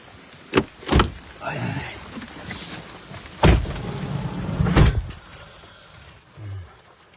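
Car doors thud shut in quick sharp bangs as people climb into a car in the rain, with rustling movement and shuffling between the knocks and a soft bump near the end.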